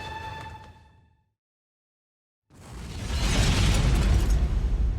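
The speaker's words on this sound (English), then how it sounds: "the suicide bomber had blown himself up" A suicide bomber's bomb detonates in a stairwell during an SAS raid: a brief noise cuts to silence, then a loud, sustained roaring blast.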